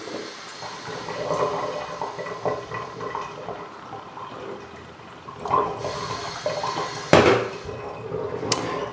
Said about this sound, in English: So I'm just taking normal tap water here.